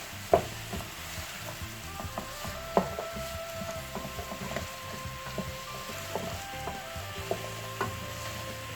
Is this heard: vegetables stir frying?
yes